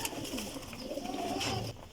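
Teddy Golden pigeons coo in a dense, continuous flock murmur, close and moderately loud with no voices.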